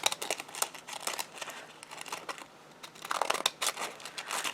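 Decal scissors snipping through paper for cardmaking, a rapid irregular series of close, crisp cuts and rustles that swell and fade while the paper is worked along its edge.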